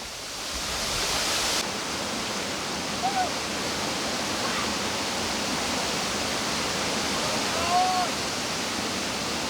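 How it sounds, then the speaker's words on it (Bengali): The Jade Bhai waterfall in Bangladesh roars continuously, a dense, steady rush of falling water close by that holds level for nearly ten seconds, with a couple of faint, brief vocal sounds barely rising above it. "খুবই সুন্দর একটা ঝর্ণা।"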